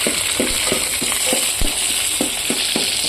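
Onions and curry leaves fry in hot oil, a steady close sizzle broken by frequent soft clicks and scrapes from stirring, with no voices.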